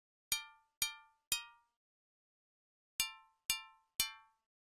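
Serum synth pluck imitating a bell, struck six times in two groups of three, each a bright ringing hit that decays quickly, clean and alone.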